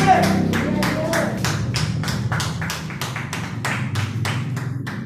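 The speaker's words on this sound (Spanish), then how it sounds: "De un fuerte aplauso a Jesús." Congregation at a church service claps in a steady rhythmic beat, sharp regular claps over a low murmur of voices and music, continuing evenly throughout.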